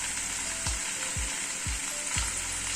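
Crushed roasted peanuts hit a hot pan of vegetable curry for roti and paratha, under a steady loud sizzle with four evenly spaced scraping stirs or taps.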